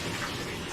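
Water runs steadily from a bathtub faucet in a house under leak inspection, a constant close hiss with no talking.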